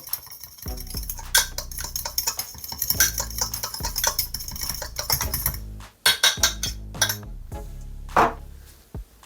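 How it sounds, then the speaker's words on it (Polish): Cauliflower steak ingredients with a little turmeric being stirred together in a bowl, a busy close run of scraping and clinking spoon-on-bowl sounds in quick irregular bursts, with a brief break partway through. "Wszystko mieszam."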